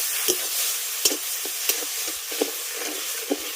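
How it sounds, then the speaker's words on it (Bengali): Spoon stirring sugar with a little water as it melts into caramel in a wok over low heat, giving soft sporadic scrapes and clicks over a faint steady sizzle, close and unhurried. "অল্প আঁচে আস্তে আস্তে বসিয়ে রেখে এইভাবে একটু মেশাতে থাকলেই দেখবেন চিনিটা আস্তে আস্তে গলে গিয়ে ক্যারামেল হয়ে যাচ্ছে"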